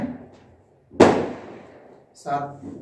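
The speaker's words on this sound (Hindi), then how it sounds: "पास में शादी है तो गोले पटाखे चल रहे हैं वहां पे" A single sharp firecracker bang from a nearby wedding cracks out and fades, with a voice heard briefly before and after it.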